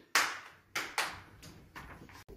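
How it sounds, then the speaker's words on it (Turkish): A few sharp hand claps, close by, in an uneven pattern with short gaps between them. "İki iki. Beraber alkış."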